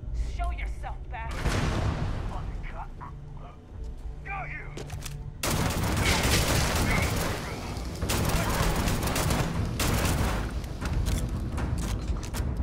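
Gunfire in the Starfield space game: rapid bursts of automatic shots crackle and rattle in clustered volleys, interrupted by brief quieter gaps with faint tonal game effects, loud and dense through most of the span.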